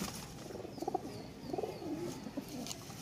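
Blue pigeon cooing softly in a loft, a few low throaty coos repeating at an easy pace over faint background noise.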